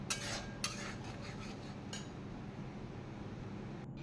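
A utensil stirs curd and ground sesame paste in a pan, giving faint scraping and a few light metallic clinks near the start over a low, steady background.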